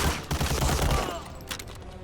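Continuous gunfire from Medal of Honor: Allied Assault, a dense, loud wash of rapid shots and rumbling reports over about two seconds, fading slightly toward the end.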